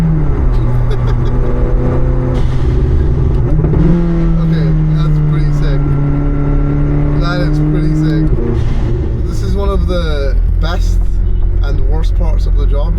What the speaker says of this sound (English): every time you downshift, you get that downshift pop